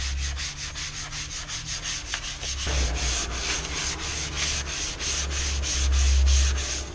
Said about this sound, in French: Une fois que tu as bien tout poncé